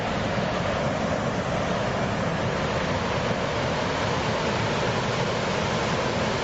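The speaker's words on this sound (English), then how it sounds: "So the fall area, this is the source of the water for the fish hatchery." Waterfall that feeds the creek at a fish hatchery, a steady loud rushing roar of falling water, constant and broadband, with no other sounds over it.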